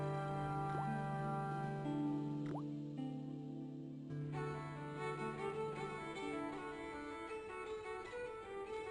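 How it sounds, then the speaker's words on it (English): A faucet drips steadily in the point-and-click game Broken Sword, with soft, faint water drops over a quiet ambient background. "I shut off the faucet as tight as I could, but it kept on dripping."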